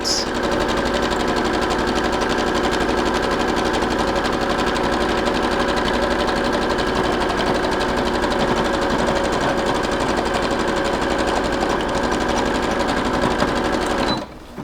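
Sewing machine stitching elastic into a leggings waistband. It runs with a fast, even mechanical whir and rapid needle clatter, close and loud, for about fourteen seconds before stopping abruptly.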